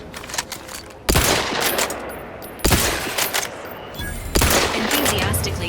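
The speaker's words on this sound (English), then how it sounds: "Prism repeating rifle, that's what it was." Prism repeating rifle fire in the Outer Worlds 2 video game, three loud close bursts of rapid shots about a second and a half apart, over a noisy game soundscape with no talking.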